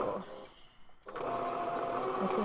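A sewing machine top stitching the edge of a fabric face mask runs in a steady, close mechanical whir, pausing briefly before starting again and running continuously to the end.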